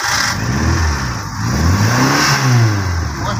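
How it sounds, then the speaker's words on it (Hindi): The engine of a 2006 Changan double-cabin pickup revs up and down close by, a loud rising and falling mid-pitched roar over a steady running drone. "स्टार्ट भी करके आपको दिखा देते हैं ताकि गाड़ी का साउंड वगैरह को पता चल जाए"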